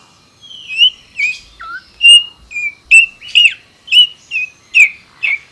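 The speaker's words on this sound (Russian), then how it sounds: "ты же опять свистел же" A series of about ten short, bright whistled notes from a cartoon character, some rising and some falling, spaced roughly half a second apart against a quiet background.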